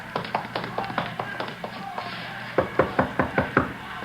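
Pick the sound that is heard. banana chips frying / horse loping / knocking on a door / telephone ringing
knocking on a door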